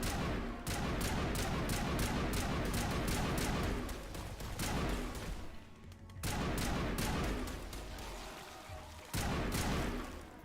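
Sustained gunfire in Mass Effect: Legendary Edition, dense rapid bursts of shots with booming impacts, near and loud, pausing briefly a couple of times before resuming.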